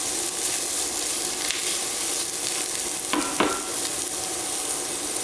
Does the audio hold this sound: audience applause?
no